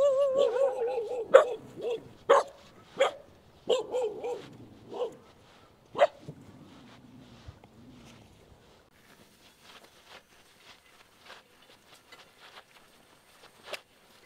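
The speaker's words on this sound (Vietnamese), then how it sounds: "Chắc mấy chó thấy lạ, cái mấy chó la làng quá trời cả nha." Several dogs bark in a rural Vietnamese forest village, a burst of loud, close barks and yips with a few whimpers over the first eight seconds, then only faint scattered barks and footsteps, ending with one sharp bark.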